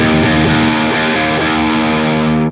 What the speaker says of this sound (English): Taking the EQ in and out sounds like this.